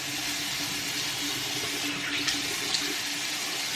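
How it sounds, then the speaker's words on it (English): Running water from a bathroom sink tap flows steadily while someone splashes water onto their face, with a couple of soft splashes standing out over the constant rush. "So now I'm just gonna splash my face with a little bit of water"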